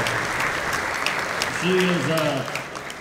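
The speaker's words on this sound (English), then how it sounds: "You can give her a huge round of applause." Audience applause for a secretary at a San Benito high school football banquet, a steady crowd clapping throughout while a voice speaks briefly over it in the middle.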